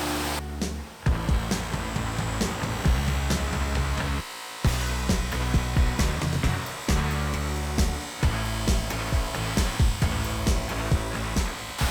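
A buffing wheel charged with polishing compound runs against a metal part, giving a loud, steady motor whine and rushing friction that continues for the whole stretch, with one brief dip partway through.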